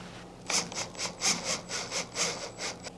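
Self-tapping screws being driven slowly into a bow handle for an Xi3 install, with repeated rhythmic grinding bursts about every quarter second, close and moderately loud, no talk.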